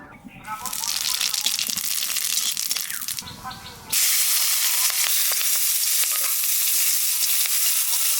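Green chillies hit hot oil in a pan, with clattering stirring followed by a sudden, loud and sustained sizzle that carries on to the end.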